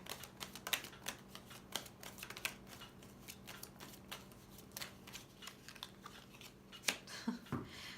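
Tarot deck being shuffled by hand, a quiet run of quick crisp card flicks and riffles with irregular soft taps, close but low in level.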